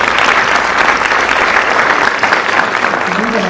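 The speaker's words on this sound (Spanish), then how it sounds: "Recibimos con un fuerte golpe de aplausos a la magistra Liliana Víctor." Hearty applause from an audience welcoming a guest speaker at a lecture event in Huancayo, a loud, continuous crowd clap that holds steady and begins to thin toward the end.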